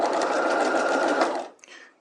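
A sewing machine runs in one continuous burst while back tacking at the top of a dart, a steady close mechanical whir that stops abruptly, leaving a brief faint clatter.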